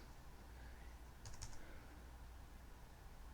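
A few quick computer keyboard keystrokes entering a password, a short cluster of clicks midway and one more near the end, fairly quiet against a steady low room hum.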